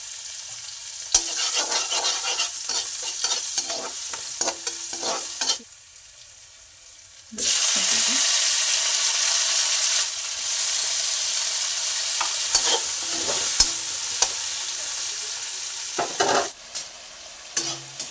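Tomatoes fry with fenugreek seeds and a green chilli in a pan for a fish curry, a close, steady sizzle broken by rhythmic stirring scrapes, with a couple of quieter pauses.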